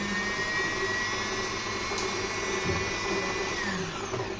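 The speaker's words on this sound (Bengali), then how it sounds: "তারপরে ববিন উইন্ডারকে ডান দিকে ঠেলে দেবেন" Usha Janome Allure DLX sewing machine winding thread onto its bobbin, a continuous loud whirring motor hum at steady speed without pause.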